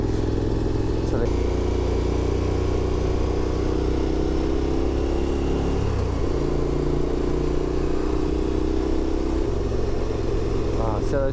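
A motorcycle cruises along a road between Santander and Torrelavega, its engine a steady continuous drone with wind rumble, a brief shift in pitch midway, and a rider speaking over it.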